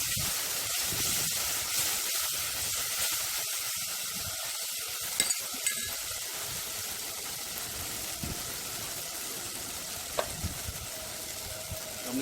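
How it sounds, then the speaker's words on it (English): Ginger and green Scotch bonnet pepper seasoning sautéing in a pan, a steady close sizzle and frying hiss running throughout with a few light clicks of stirring, no talking. "I'm just saute up the seasoning."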